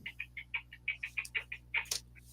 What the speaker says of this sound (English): sounds like birds chirping.